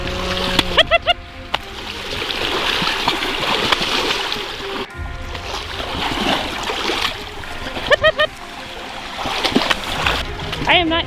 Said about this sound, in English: I am not used to seeing the water rise this quickly.